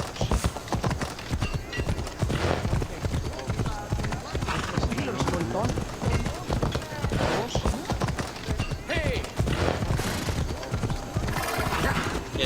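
Horse hooves clip-clop in a steady gallop inside a video game set in ancient Greece, with whinnies and busy game noise under ongoing talk.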